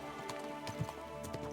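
Horse hooves clip-clop softly in the medieval role-playing game Kingdom Come: Deliverance II, an uneven patter of light steps at moderate distance with faint ambient sound and no speech.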